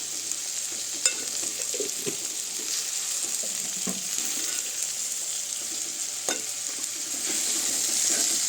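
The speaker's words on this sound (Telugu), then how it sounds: "ఇప్పుడు బాగా కలుపుకోవాలండి." Okra and egg fry sizzles steadily in a pan as it is stirred, with scraping strokes and occasional sharp clinks over a constant hiss, close and fairly loud, no voices.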